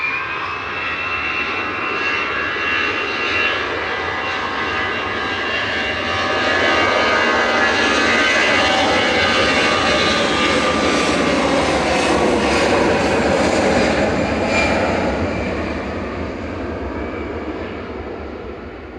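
An EasyJet airliner at Manchester Airport roars past in a loud, steady jet engine rush that swells in the middle and eases off toward the end, heard alone without any talk.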